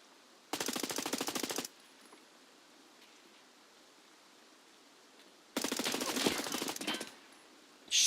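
Bursts of automatic gunfire in the Escape from Tarkov shooter game: two sustained rapid volleys, each lasting about a second, separated by a quiet stretch, loud and close, with a third burst starting at the end.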